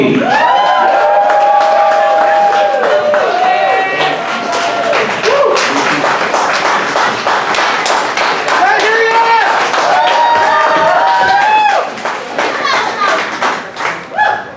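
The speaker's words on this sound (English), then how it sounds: "Please give a round of applause to Sophie!" Audience clapping and cheering for a poet at a poetry slam night, loud and busy with whoops and voices mixed in, sustained throughout before breaking into scattered claps near the end.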